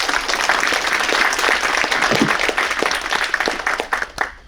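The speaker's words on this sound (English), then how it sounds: "Let's give them a round of applause for Chinese New Year." Audience applause at a Lunar New Year celebration with a mayor presenting, steady dense clapping from a crowd that carries throughout and starts thinning near the end.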